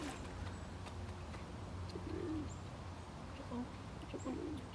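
Soft pigeon coos repeat a few times against a steady background hum, with faint chirps from other birds at a distance.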